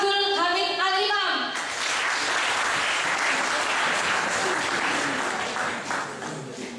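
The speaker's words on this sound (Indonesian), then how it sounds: "Beri tepuk tangan yang meriah pada Pak Abdul Hamid Al-Imam." Audience applause welcoming a guest at an entrepreneurship talk show, a dense burst of clapping from a sizable crowd that swells in after a brief spoken introduction and then fades slightly.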